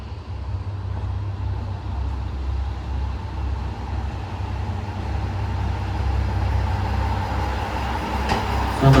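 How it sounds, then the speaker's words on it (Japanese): A Kanto Railway Joso Line train rolls into Mitsukaido Station in Japan, a steady loud mechanical rumble and roar that builds slightly toward the end with a brief high squeal as it arrives. "3番線10時26分発の下館行き到着です。"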